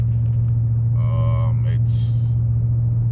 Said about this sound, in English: I can tell it's misfiring because, well, obviously it's shaking.